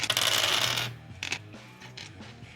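Dice clatter during a tabletop role-playing game: a dense rattling burst that tumbles and fades, followed by a few lighter scattered clicks as they settle.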